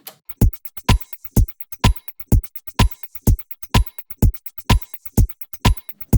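A steady four-on-the-floor house drum loop: thumping kick on every beat with crisp hi-hats ticking between, looping evenly without any voices.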